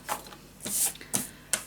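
Scissors or a paper trimmer cutting a 6-inch piece of paper for a scrapbook mini album: several crisp, hissing slicing strokes spaced unevenly and heard up close at low volume.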